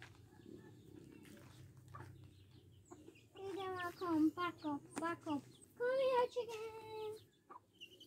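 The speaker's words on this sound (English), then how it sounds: "Come here, chicken, chicken." Free-range chickens cluck in a burst of short, choppy calls on a farm, fairly close, after a quieter stretch with faint background sounds.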